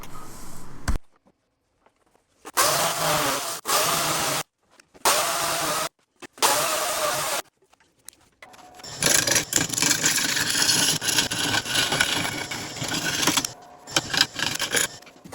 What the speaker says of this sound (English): I brought out my cordless chainsaw and made fast work of the cut.